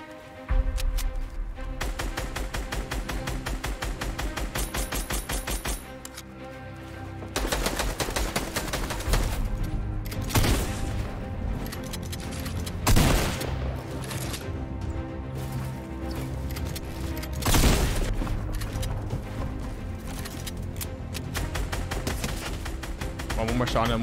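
Rapid gunfire bursts from a Fortnite match ring out close and loud across the whole stretch, sharp repeated shots layered over dense game sounds while a player talks over the action.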